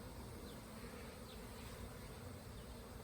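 Bees buzzing around a newly started hive, a soft, continuous hum of many insects close by, faint and steady with no voices.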